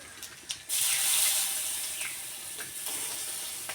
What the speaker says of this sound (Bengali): এবার দিয়ে দিব কালো জিরা, একটু বেশি করেই দিব। তারপরে দিব আদা